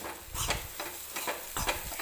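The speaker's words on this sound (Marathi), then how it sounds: "तर चमच्याने वगैरे अशा पद्धतीने याच्यातल्या थोड्याशा राहिलेल्या गाठीसुद्धा आपण फोडून घेऊ शकतो." Spoon stirring a besan and dal mixture to break up lumps, three or four close scraping strokes in a steady rhythm over a faint sizzling background, with no voices.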